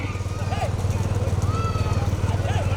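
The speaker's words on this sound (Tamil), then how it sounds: "உனக்கு பின்னாடி மாடு வருகிறா" Big bulls pounding along in a bullock cart race, their fast hoofbeats a steady rhythmic thudding beneath loud, continuous announcer commentary and crowd noise.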